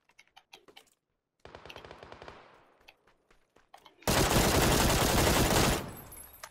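Gunfire in PUBG on PlayStation, Sanhok map: short sharp bursts of rapid shots, then a dense, loud, sustained volley of automatic fire lasting a couple of seconds before cutting off.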